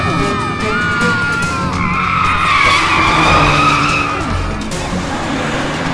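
Tires skid and squeal as a bus swerves in a comedy film scene, a long shrill screech rising and falling over engine rumble for several seconds.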